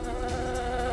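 Honeybees from a honey-producing beekeeping operation buzz in a dense, continuous drone with a steady pitched hum, close and even for the whole moment, with no voices.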